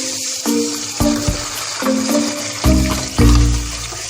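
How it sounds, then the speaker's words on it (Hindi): Beef liver (kaleji) drops into hot oil and sizzles loudly and close, with several bursts of crackling as pieces are added and stirred. "तो अब हम डालेंगे इसके अंदर कलेजी।"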